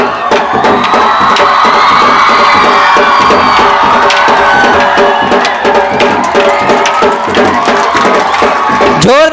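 Large outdoor crowd at an Independence Day celebration cheering, shouting and clapping loudly and continuously after a group lathi stick dance performance, dense and close.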